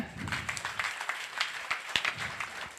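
Audience at a Tamil literary society's annual speech event clapping together, a dense, fairly loud burst of scattered hand claps lasting a few seconds, with some noise mixed in.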